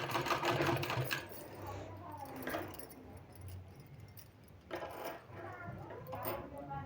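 Sewing machine stitching sleeve fabric, running in bursts with clattering mechanical ticking, close and fairly quiet, with a voice talking over parts of it.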